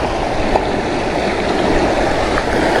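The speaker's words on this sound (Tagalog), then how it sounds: "Malakas na agos." Strong water current rushing steadily through a tunnel, with a fishing net being swept along; a loud, continuous broadband roar with no let-up and no voices.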